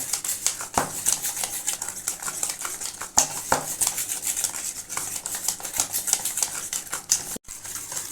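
Rapid clicking taps of a utensil beating batter in a bowl for kheer patishapta, a Bengali pithe, fast and irregular, close up and fairly quiet, with a brief pause near the end.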